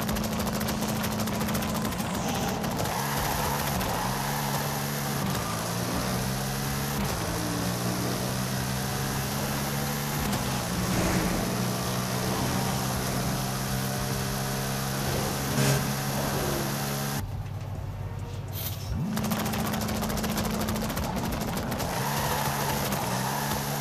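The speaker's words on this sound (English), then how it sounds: "Next, we've got the RTR Spec Mustang, one of my favourite cars in the game." RTR Spec Mustang in Forza Horizon 5 accelerating hard, its engine note climbing through gear after gear in rising sweeps, with a brief lull at a shift before the roar picks up again, loud and close throughout.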